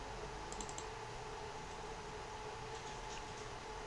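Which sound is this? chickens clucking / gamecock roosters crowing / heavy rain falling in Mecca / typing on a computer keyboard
typing on a computer keyboard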